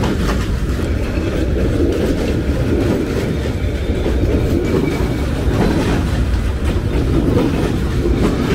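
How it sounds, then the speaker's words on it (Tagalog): A long train rolls past on a street in Hanoi, Vietnam: a loud, close, steady rumble with rhythmic clickety-clack of wheels over the rail joints, continuous from start to finish. "Ang haba na itong train."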